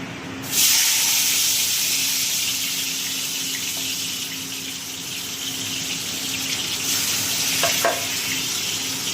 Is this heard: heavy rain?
no